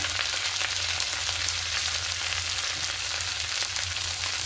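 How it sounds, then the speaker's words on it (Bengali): Ground coriander, cumin, turmeric and chilli powders with spice paste sizzle in hot oil in a pan for a spinach and shrimp curry, a dense, even, continuous frying hiss with no talk. "এবার সব কিছু দিয়ে খুব ভালো করে কষিয়ে নেব"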